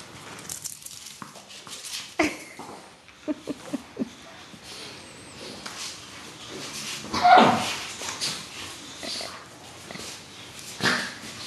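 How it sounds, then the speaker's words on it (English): Dogs scuffle and snuffle nearby, with scattered thumps, soft whines and pattering movement, while a person talks intermittently. "Risley, Rainy, crazy dogs."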